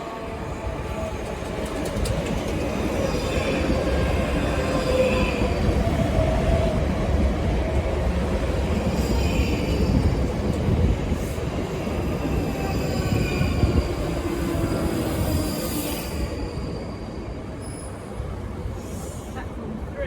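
Trains pass through Queenstown Road Battersea station in London, a steady loud rumble of rolling stock with rail noise and faint higher squeals, lasting throughout with no pause.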